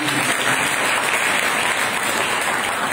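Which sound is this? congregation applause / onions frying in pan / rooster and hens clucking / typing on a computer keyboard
congregation applause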